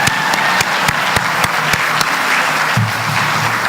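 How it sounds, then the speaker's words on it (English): Loud, dense applause from an awards-ceremony audience for a recipient, sustained clapping throughout with a few sharp nearby claps standing out. "She deserves another round of applause for that."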